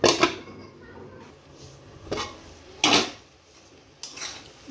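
A metal lid clatters onto a cooking pot of ghugni, a raw-pea curry, set down with several sharp clanks spread over a few seconds, close by in a quiet kitchen with no talk.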